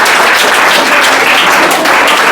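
Children in a classroom clap for a classmate being called up to receive chocolate, a loud close wash of many small hands clapping quickly and continuously for a couple of seconds.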